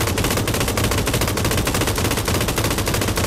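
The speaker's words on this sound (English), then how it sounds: "I got somebody shooting at me." Rapid automatic gunfire in PUBG: Battlegrounds rattles out as a loud, continuous burst of closely spaced shots with no talk over it.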